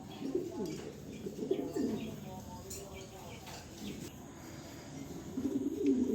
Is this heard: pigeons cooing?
yes